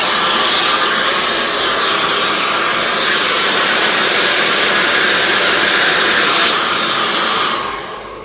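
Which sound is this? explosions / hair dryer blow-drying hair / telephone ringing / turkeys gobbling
hair dryer blow-drying hair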